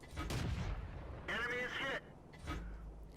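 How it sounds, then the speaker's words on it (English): Artillery firing in the World of Tanks video game: several deep, booming blasts with rumbling tails, spaced irregularly across a few seconds, and a tonal, whining burst in the middle. "There's a piece of artillery in the distance."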